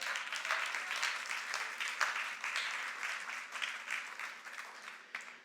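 A church congregation claps together during a Christmas worship service, a soft, fairly distant wash of many hands applauding in a steady, unbroken stream.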